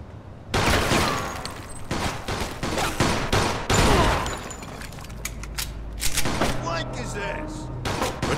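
Rapid bursts of gunfire in the video game Mafia II, loud and close with sharp repeated shots and mechanical clanks, under shouted voices.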